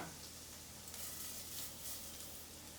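Shallots and risotto rice sizzle over medium heat in olive oil and butter, a soft, steady crackling hiss that stays fairly quiet and continuous, with no voices.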